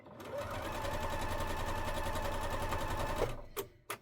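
A sewing machine stitches quilt rows together in a steady, fast, close whir for about three seconds, then stops, followed by a couple of sharp clicks.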